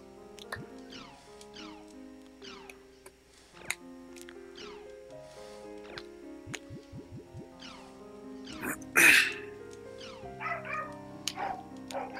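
A man imitates a dog barking with his voice, a string of short woofs and yips spread across the stretch over a soft musical backdrop, with one louder burst partway through.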